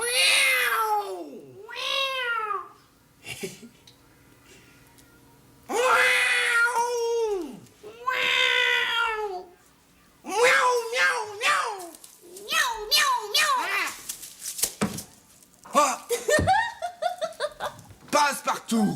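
A human voice imitates a cat, giving a rapid series of loud, close meows with short gaps, some drawn out and some clipped, ending in a quick run of shorter mews.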